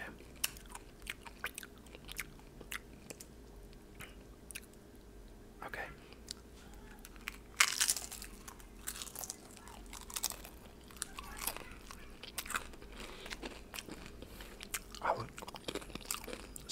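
Crunchy vegan nachos bitten and chewed right against the microphone, with a steady run of sharp close crunches and wet mouth sounds and a few soft breathy murmurs between bites.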